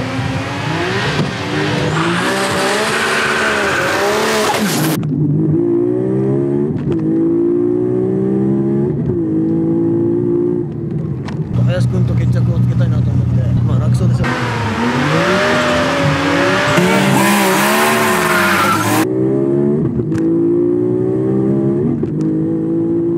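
Two cars, including a Nissan R33 GT-R, race at full acceleration on a public road in a street quarter-mile run. Loud engines roar and climb through repeated gear changes, rising and falling in waves, while voices talk over them.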